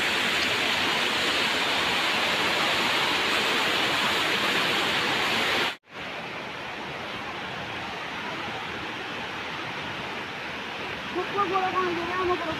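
Water pours steadily at Harishankar waterfall, a loud, dense roar that fills the whole stretch, broken by one brief cut before resuming just as strong.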